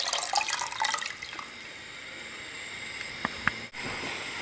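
Freshly squeezed orange juice poured onto sugar, a close splashy trickle at first that fades into a faint hiss, followed by a couple of small clinks near the end.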